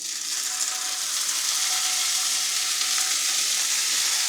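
Salmon fillets fry skin side down in an oiled pan, giving a steady, close hiss of sizzling oil that runs unbroken and fairly loud throughout, with no voices over it.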